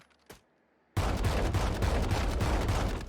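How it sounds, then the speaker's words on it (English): A Judge shotgun in Valorant fires rapidly, a brief faint sound first, then a loud, sustained stream of close blasts in quick rhythm lasting about two seconds. "Okay, let's fire that as quick as we can."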